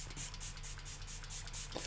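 A soft, steady hiss of fine mist from a spray bottle, faint and continuous, ending with a small click.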